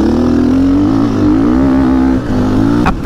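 An enduro motorcycle engine revs loudly and up close as the throttle opens, a steady wavering drone that dips briefly near the end, with no talking.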